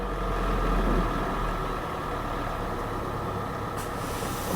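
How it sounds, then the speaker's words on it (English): A Kia car engine idles at a steady speed during recall service testing, a continuous, even mechanical hum with a low rumble that stays level throughout, close by and with no talking. "Maintain engine RPM between 850 and 1600"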